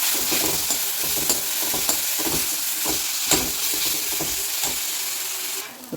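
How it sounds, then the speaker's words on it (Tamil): Ripe banana pieces sauté in ghee, a continuous soft sizzle with repeated scraping strokes of a spoon against the pan at an even stirring rhythm, close up and without speech. "இதை வந்து நல்லா நெய்யிலே நல்லா வதக்கிக்குவோம்"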